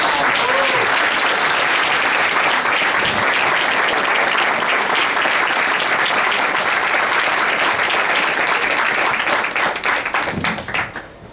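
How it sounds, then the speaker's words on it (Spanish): Sustained audience applause at a film festival talk with filmmaker Alex Cox, dense steady clapping from a full room that holds loud for about ten seconds and then tapers off at the end. "les ruego un nuevo aplauso"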